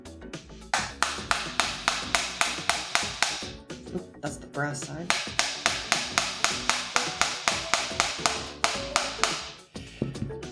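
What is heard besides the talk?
hammering on a gun's charging handle while cleaning the gun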